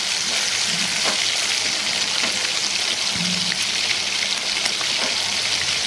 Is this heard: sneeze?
no